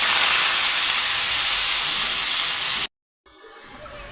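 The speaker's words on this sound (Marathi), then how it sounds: "बघा मस्त थोडंसं मीठ टाकून परतून घ्यायची भाजी" Vegetables sizzle in hot oil in a kadhai after a cumin tempering and a pinch of salt, giving a loud, steady frying hiss that cuts off abruptly, then returns more quietly.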